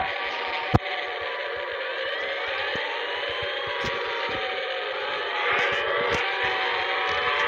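Siren Head's wailing siren in a video game, a dense sustained drone with sliding tones and a sharp click near the start, steady and loud throughout with slight swells later.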